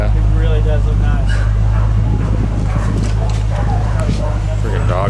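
Dogs at a nearby dog pound bark and yip in scattered bursts over a steady low engine hum, with people talking close by.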